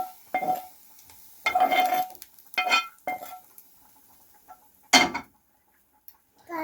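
A spoon works through grain mixed with fried onion in a pot, giving a handful of separate scraping, clinking bursts with short quiet gaps between them, close by and moderately loud.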